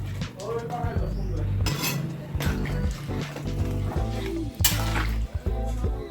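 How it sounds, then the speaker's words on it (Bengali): Spice paste is stirred with water in a cooking pot for soybean curry, with repeated metallic clinks and scrapes of a utensil against the pot over a steady background. "জল দিয়ে এখন আমি যে মশলাটা ভালো করে মিশিয়ে নেব জলের সাথে।"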